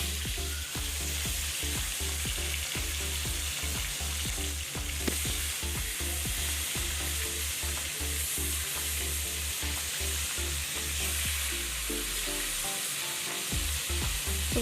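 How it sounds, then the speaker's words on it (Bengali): Fish frying in hot oil in a kadai for Bengali fish head curry gives a loud, continuous close-up sizzle with small crackles throughout, easing slightly near the end. "মাছটি আমি ভেজে নেব।"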